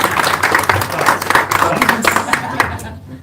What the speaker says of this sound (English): I think we should clap for all of them